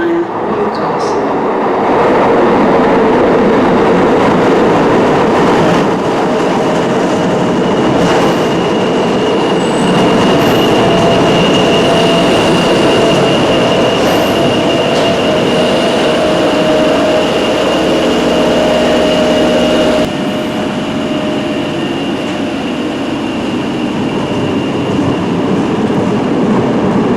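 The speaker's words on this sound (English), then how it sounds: "The next train to arrive on platform 2 is for the coast via Newcastle." A Tyne and Wear Metro train on the Newcastle line pulls into a station platform with a steady loud rumble of wheels and motors and faint high squeals throughout, close by, while a recorded platform announcement plays over it.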